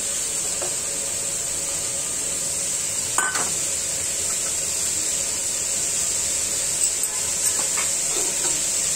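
Chopped potatoes go into a hot pan for a Bangladeshi mixed vegetable dish, giving a steady, fairly faint hiss of sizzling with a few soft knocks and scraping stirs.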